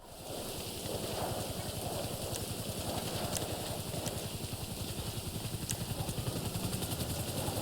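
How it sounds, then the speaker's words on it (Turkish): A helicopter arrives in the video game GTA Online, a steady, dense, rapid rotor chop with engine drone holding loud and continuous throughout. "Oha helikopter geldi."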